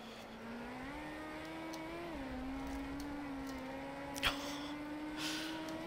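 Datsun Bluebird SSS engine in a racing video game mod at Ibarra, steady mid-revving drone that climbs and dips slightly, with a brief tire-squeal-like burst near the end and no talking.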